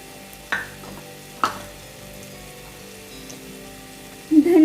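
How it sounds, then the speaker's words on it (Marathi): Mushroom masala gravy with onion-garlic masala and kasuri methi being sautéed, a faint low sizzle under two sharp utensil knocks, with a louder clatter at the end. "हे छान परतून घेऊया, मिक्स करूया या ग्रेव्ही।"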